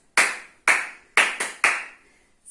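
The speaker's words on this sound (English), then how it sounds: "Simon says, clap your hands." Hand claps during a Simon Says game for children: five sharp, close claps at uneven intervals, the last two quicker together, each with a short ring-off into quiet and no voices.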